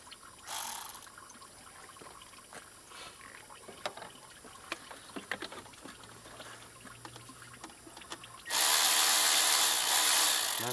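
A power tool removes water pump bolts on a 2006-2011 Honda Civic Si with a K20Z3 engine. A short burst comes first, then scattered quiet clicks and taps, then a loud, sustained whirring run that fills the final seconds.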